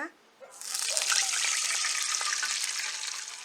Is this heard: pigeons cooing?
no